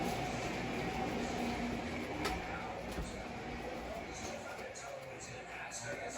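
A Lionel model Freedom train runs on its track nearby, giving off a continuous rolling rumble and whir with faint clicks from the rails, steady in level throughout.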